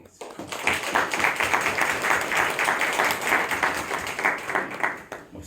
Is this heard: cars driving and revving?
no